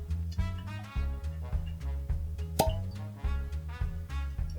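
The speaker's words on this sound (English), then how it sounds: "Cork pop." A cork pops once from a bottle of Remus Repeal Reserve Batch 9 bourbon, a sharp close snap in the middle of steady, loud background music.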